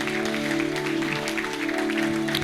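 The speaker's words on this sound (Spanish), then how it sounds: "Dale a Él otro fuerte aplauso." A church congregation claps in dense, sustained applause, blending with steady organ or keyboard chords underneath.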